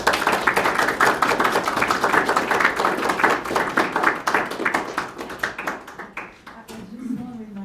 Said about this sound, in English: I just want to remind everybody that if we clap after every statement, we may have less questions.